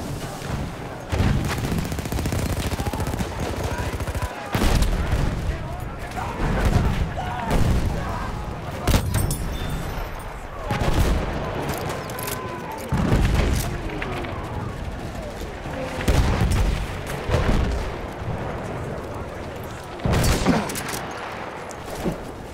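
Grenades exploding among steady gunfire in a Battlefield 1 Conquest match on the Achi Baba map, with heavy booms landing at irregular intervals through loud, continuous battle noise.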